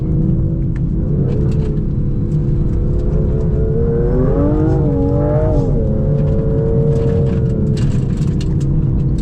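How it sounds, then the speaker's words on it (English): A 2025 Aston Martin Vanquish drones loudly from inside the cabin on a steady road roar, its engine note swelling in pitch under throttle, then easing back with turbo whistle and blow-off on the lift. "That turbo whistle, it's like an old school 80s rally car or something."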